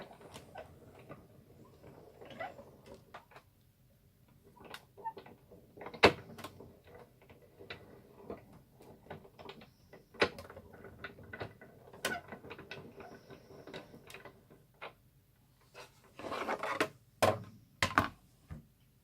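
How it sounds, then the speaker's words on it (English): A die cutting machine runs with a quiet stream of irregular mechanical clicks, ticks and clunks, growing busier and louder in a cluster near the end. "Okay, so I've got the die cutting machine."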